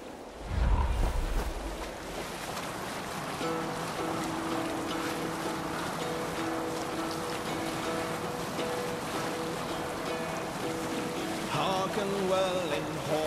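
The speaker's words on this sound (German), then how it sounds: "Hier können wir nicht segeln. Guter Wind zum Segeln, Eivor. Segeln!" A sailing ship moves across the ocean in Assassin's Creed Valhalla, with a low rush of waves and wind under the hull, a dull thud at the start, and a continuous sea wash with faint melodic tones beneath.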